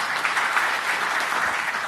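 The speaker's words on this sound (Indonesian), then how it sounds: "Tepuk tangan yang meriah bagi Tuhan Yesus." A church congregation claps together during a sermon, sustained and even applause from a large group, bright and steady throughout with no speech over it.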